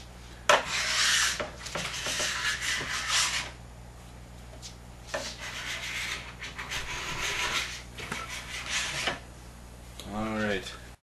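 A plastic scraper drawn repeatedly along a waxed snowboard base, making long, rasping strokes in steady bursts with brief pauses, close and fairly loud.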